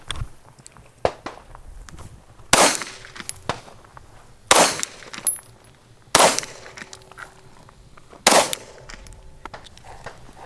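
Several loud gunshots fired at a backpack in an outdoor armor test, sharp cracks spaced a couple of seconds apart, four main blasts with smaller impacts between, no talk.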